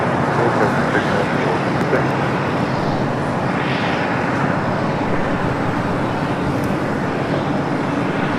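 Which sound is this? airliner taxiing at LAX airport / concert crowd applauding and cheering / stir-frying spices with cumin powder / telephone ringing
airliner taxiing at LAX airport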